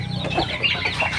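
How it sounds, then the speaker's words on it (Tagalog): Native Bisaya chickens cluck and chatter close by, a dense, continuous barnyard murmur over a brief stretch with no talking. "Bisaya po yan mga kadol. Bisaya na manok."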